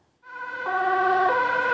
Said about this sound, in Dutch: Met loeiende sirenes kwam de brandweer aangesneld bij basisschool De Zuidvliet in Kortgene.